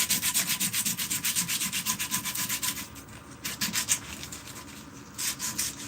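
Steady back-and-forth rubbing of coarse, heavy-grit sandpaper, probably on a forged spoon, close and fairly loud in quick regular strokes with a brief pause partway through.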